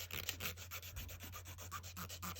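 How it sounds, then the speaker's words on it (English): Coarse file rasping back and forth over a bump on a dip-powder nail, a steady run of close, scratchy strokes with a low hum underneath and no talking. "I'm going to take a little bit coarser file and get that bump so it doesn't take so much buffing"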